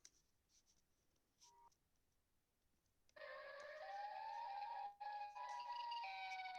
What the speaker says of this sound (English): That's a tornado siren.